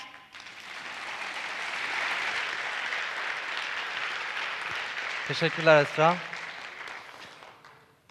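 Audience applause at a school TEDx event forms a sustained, moderately loud wash of clapping. A person speaks briefly near the end as the clapping tapers off.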